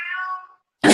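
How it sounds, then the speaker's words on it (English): A single drawn-out cat meow, close and clear, fading off, then a sudden short burst of noise right at the end. "I'm sorry if you guys can hear my cat."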